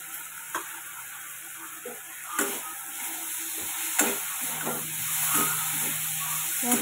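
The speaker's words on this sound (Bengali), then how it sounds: "এবার আলুগুলো দিয়ে দিলাম, দিয়ে আলুগুলোও মশলার সাথে ভালো করে নেড়ে চেড়ে মাখিয়ে নেব।" Potato pieces stirred in a pan of sizzling spice masala, a steady frying hiss with repeated scraping strokes of a spatula against the pan, close and without speech.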